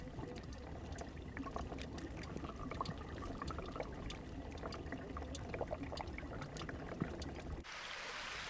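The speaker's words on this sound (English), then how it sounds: "Ice melt flows over the top of the glaciers." Meltwater from glacial ice streams and trickles over the surface of a South American glacier, a steady close bubbling flow with small splashes, alone and moderately quiet before an abrupt shift at the end.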